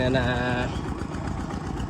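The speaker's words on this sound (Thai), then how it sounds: "ไถนาซึ่งมีรถไถ2 คัน" Two tractors, an old-model Siam Kubota among them, run at a communal ploughing event in Thailand, a steady mid-pitched engine drone close by with a short whining tone at the start and talk over it.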